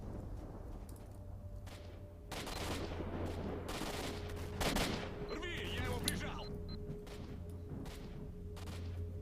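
Shotgun blasts in the video game STALKER: Shadow of Chernobyl, several loud booming shots spaced a second or so apart amid scattered gunfire, with someone talking briefly over them.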